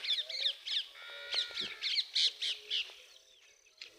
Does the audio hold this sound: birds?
yes